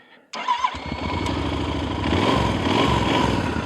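An off-road motorcycle, left with its ignition on until fuel leaked, fired up with a sudden catch after a brief cranking whir, then settling into a loud, steady, close idle with a slight rise in revs.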